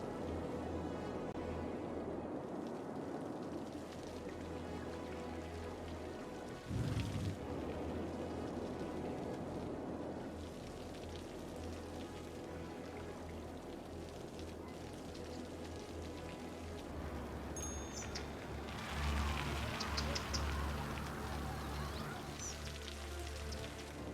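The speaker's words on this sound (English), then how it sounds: "Man, the rain is still not helping." Rain falling in the city-building game Cities: Skylines, a steady, soft hiss of drops on surfaces that goes on throughout, with faint background game sounds.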